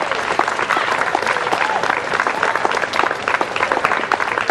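A crowd at an affordable-housing rally claps continuously, dense steady applause filling the room throughout.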